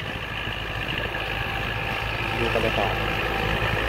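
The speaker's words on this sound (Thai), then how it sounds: "เห็นรถไถนะครับกำลังไถหุ้นก็เลยไถเปิดหน้าดินเพื่อจะหวานข้าวนะครับ" Tractor engine plowing a rice field to open the soil for sowing, a steady low idling rumble that carries throughout, with someone talking over it.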